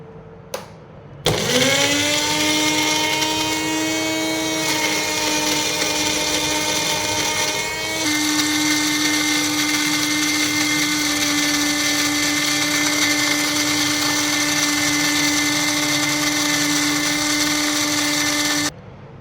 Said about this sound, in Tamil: இப்போ நல்லா பிளெண்ட் பண்ணி எடுத்துக்கணும்